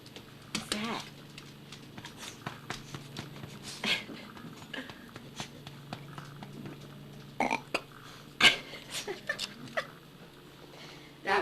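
A dog burps softly a few times among scattered clicks, taps and rustles indoors, with people talking quietly nearby.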